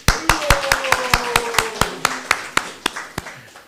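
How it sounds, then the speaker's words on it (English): Audience clapping at a Sri Caitanya-caritamrta lecture, heard as sharp, evenly spaced claps from a few nearby people over roughly four seconds, with faint murmuring underneath. "Let's give a round of applause"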